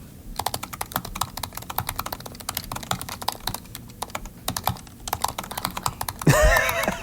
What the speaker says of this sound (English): we're going to type quick brown fox sentence, and we're going to start right now with the 2016 MacBook Pro